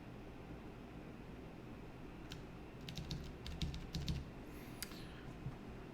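A mechanical keyboard clatters with a quick flurry of crisp keystrokes in the middle stretch, then one last click, heard close over a steady hiss of background noise.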